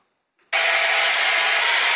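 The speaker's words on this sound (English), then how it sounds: "I'm gonna blow dry my hair" A hair dryer switches on abruptly after a brief quiet and blows hair with a loud, steady, close whoosh that holds constant.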